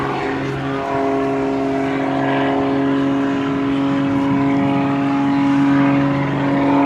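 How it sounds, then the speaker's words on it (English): Aerobatic airplane with a Magnum engine flying low at the 2009 Selfridge ANGB airshow, a loud, steady engine drone with a strong sustained tone that holds throughout and swells slightly toward the end. "Magnum engine that really gives this airplane a tremendous amount of performance"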